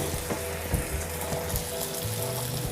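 Canned fish and egg stir-fry in a pan with a steady, dense sizzle and a few light scrapes of stirring, close by and with no talking.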